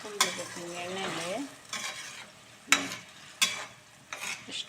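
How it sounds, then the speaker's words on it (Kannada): Masala for gojju frying in hot oil, stirred in a pan, makes a steady close sizzle, with several sharp scraping clacks of a spoon against the pan and no voices. "ಇದು ಹಾಕ್ಬಿಟ್ಟು ಸ್ವಲ್ಪ ಹುರ್ಕೊಂಡ್ಬಿಡ್ಬೇಕು ನೀವು ಎಣ್ಣೆಲಿ"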